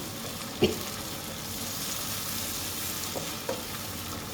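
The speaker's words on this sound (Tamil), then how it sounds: "ஒரு குட்டி தக்காளி ஒரே ஒரு தக்காளி ஒன்று போட்டு அதை நல்லா வதங்க விடுறோம்" Tomato, onion and ginger garlic paste sauté in a pan for chicken curry, giving a steady, even sizzle with a couple of soft stirring knocks, no voices.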